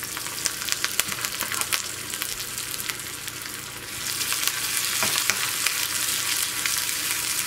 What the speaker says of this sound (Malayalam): ഇത് നന്നായിട്ട് മുരിയണം. ഉള്ളി മുരിഞ്ഞു തുടങ്ങിയിട്ടുണ്ട്